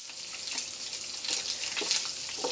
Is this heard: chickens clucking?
no